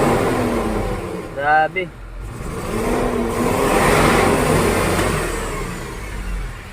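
An Isuzu 6HK1 diesel engine with a hard-starting problem revs up and holds a loud, steady drone that slowly swells and eases, close by, with a brief spoken exclamation early on.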